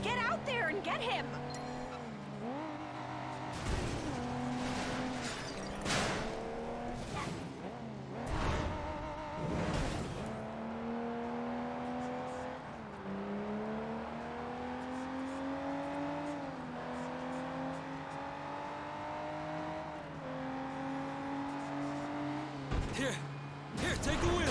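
Car chase in the Sleeping Dogs video game: a steady engine drone rises and falls in pitch as the car accelerates, with sharp crashes and impact bursts scattered throughout and game voices talking over it.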